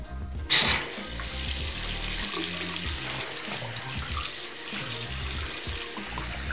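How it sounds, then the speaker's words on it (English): A newly installed bathroom sink faucet runs after a sharp click of the handle, water streaming steadily and close into the basin with a continuous splashing hiss. "My first faucet ever installed."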